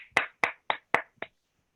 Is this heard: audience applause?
yes